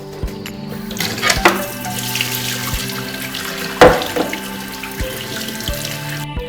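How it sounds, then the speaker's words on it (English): Water runs steadily from a tap into a sink, with a few splashes and clatters as soaked cashew nuts are rinsed under the stream. "Give the soaked cashew nuts a good rinse."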